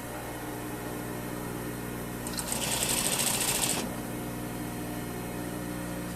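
A sewing machine runs one short burst of about a second and a half, understitching a seam allowance on a polo placket, a close steady whirring hum over a quiet room tone.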